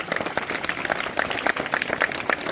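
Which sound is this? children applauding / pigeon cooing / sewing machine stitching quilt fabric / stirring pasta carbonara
children applauding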